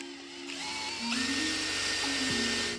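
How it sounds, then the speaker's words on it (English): A power drill bores a hole on a sailboat in San Francisco, its motor whining close and steady with shifting pitch as the bit bites, no talking over it. "now I'm squared up to drill the next hole"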